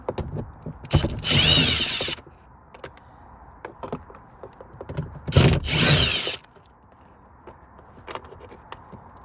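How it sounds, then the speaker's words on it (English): Bolts on a 2011-2015 Ford Explorer interior door panel being loosened with a 10mm socket wrench: two loud, close bursts of rapid ratcheting or driver whirring, with small clicks and handling noises in the quieter stretches between. "then we'll take our 10mm, and there's 2 bolts"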